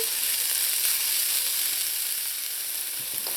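Smoked herring mixture cooks in a pan, giving a steady, broad sizzle with faint crackles that holds evenly throughout, no voices present.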